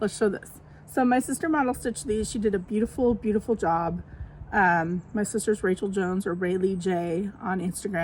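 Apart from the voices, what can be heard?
None of the usual background noises is heard.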